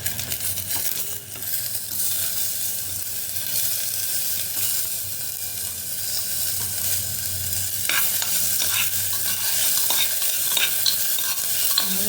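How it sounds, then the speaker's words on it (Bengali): Sliced onions fry in a pan of hot oil for a home-cooked winter meal, a dense continuous sizzle with occasional stirring scrapes and light clinks, steady and close throughout. "তো এবার এখন একে একে পেঁয়াজটা দিয়ে দেবো।"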